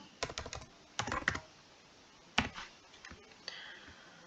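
Fingers type on a computer keyboard in short bursts of quick clicks with pauses between, close and fairly quiet, with no voice.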